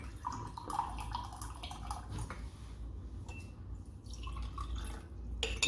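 Water trickles and drips into a small glass cup already holding sugar, a soft, close liquid patter that continues faintly for several seconds with light clinks of glass.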